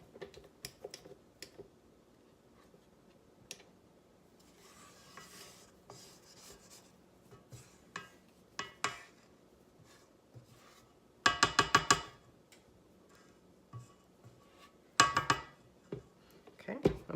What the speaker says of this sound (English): I'm going to scrape down the sides.